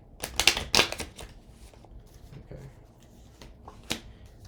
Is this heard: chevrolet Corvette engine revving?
no